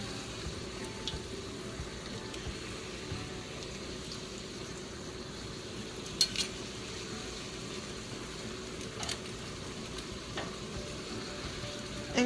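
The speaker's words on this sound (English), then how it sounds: "I'm gonna cook one side, and then I'm going to flip it over, but I'm gonna fold it in half." A tortilla cooking in a frying pan, a soft steady sizzle alone throughout, with a few faint clicks and scrapes.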